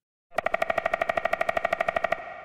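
A rapid, even burst of sharp synthetic knocks imitating a woodpecker, made in the Serum synthesizer, about twenty in two seconds, pecking steadily then stopping with a short ringing tail.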